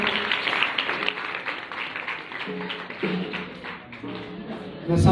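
Congregation in a church clapping along in steady rhythmic claps that run the whole time, moderately loud and dense, with a sharper burst near the end.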